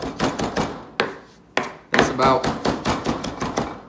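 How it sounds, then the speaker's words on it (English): A knife chops herbs finely for chimichurri, with rapid, close, crisp blade strikes on a cutting board in quick bursts and several short pauses between rounds of chopping. "Just want to chop it up fine."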